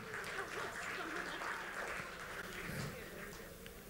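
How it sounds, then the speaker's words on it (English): An audience at a raffle drawing claps in a dense, continuous wash that stays fairly even and a little distant throughout. "The applause ended."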